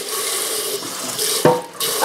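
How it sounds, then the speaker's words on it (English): Cold tap water splashes steadily into a kettle being descaled with oyster shell, a close, continuous rush with a brief surge and dip near the end. "I'm putting some cold water in here so I can get my hand in there."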